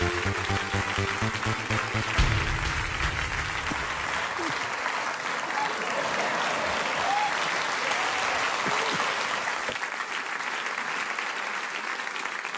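Loud, sustained studio audience applause on a German late-night comedy show, a dense wash of clapping that fills the whole stretch with some music-like tones at the start.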